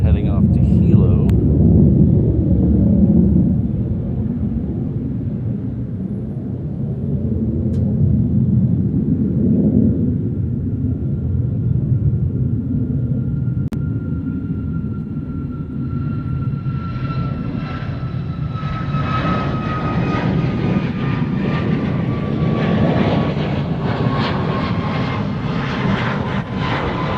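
A Southwest airliner departing Honolulu airport, heavy engine roar rumbling continuously and loud throughout, with a rising whine toward the end as it climbs away; people talk faintly over it.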